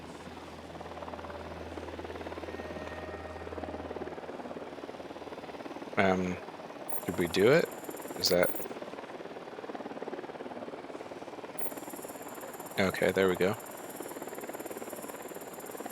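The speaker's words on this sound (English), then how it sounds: "Deploying drone." A drone is deployed in the Ghost Recon Wildlands video game, humming steadily under game sounds and voices, with a few short electronic tones cutting through. People talk over it.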